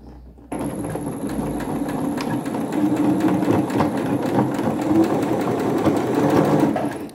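A sewing machine starts abruptly and stitches steadily, backstitching at the start of a seam, a loud, even mechanical whir with a fast rattling needle rhythm and no talk.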